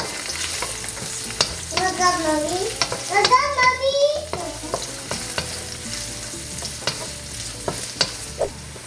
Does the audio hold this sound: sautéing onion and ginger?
yes